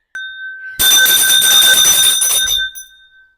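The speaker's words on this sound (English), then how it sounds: "I came with my bell" A handheld bell rings in one vigorous burst of rapid, bright metallic clangs lasting about two seconds. A single sharp strike comes first, and the ringing fades out at the end.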